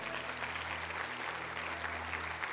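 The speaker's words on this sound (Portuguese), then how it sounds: "dê uma salva de palmas bem forte" A church congregation claps loudly and steadily throughout, a dense sustained round of applause with no speech on top.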